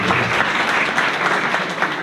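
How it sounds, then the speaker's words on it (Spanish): Students at a spiritual teaching session break into loud, dense applause that holds steady for a couple of seconds. "Un aplauso, buenos estudiantes."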